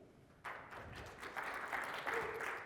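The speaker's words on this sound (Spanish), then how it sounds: "Un fuerte aplauso para Sofía." Audience applause for a speaker at a Python programming talk, a steady patter of clapping from a modest crowd heard at moderate distance, with no voices over it.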